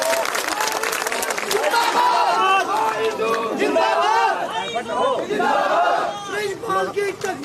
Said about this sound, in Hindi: इनके लिए भी एक बार जोरदार ताली लगाई जाए।